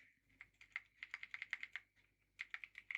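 Rapid keystrokes on a computer keyboard while a search is typed into Chrome settings, two quick bursts of close, crisp clicks separated by a short pause, with no talk.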